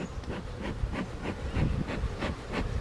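Agitated honey bees buzzing around an opened hive worked without smoke, a dense close drone swelling and fading in rapid pulses as insects pass near, with no talking.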